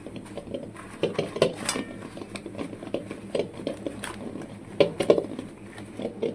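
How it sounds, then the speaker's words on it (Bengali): Oil being smeared by hand across a banana leaf in a wok (kadai) while preparing bhola fish paturi gives soft scraping and rustling strokes with a few light clinks of metal, close and fairly quiet, with no talking. "তো কলা পাতার মধ্যে এবার একটুখানি তেল মাখিয়ে নেব।"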